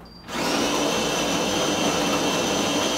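A Philips Saeco Royal super-automatic espresso machine grinding coffee beans, a loud steady mechanical whirring that starts abruptly and holds constant, close by.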